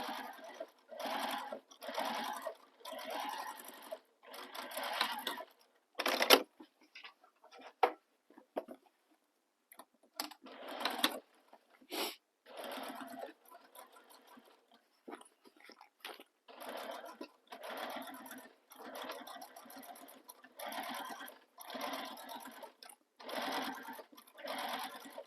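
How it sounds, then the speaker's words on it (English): A home sewing machine runs in repeated bursts of rapid, rhythmic stitching, close by, as it top stitches down the edge of a crossbody bag. Short pauses and quiet handling fall between the runs. "And now I'm going to top stitch down that edge."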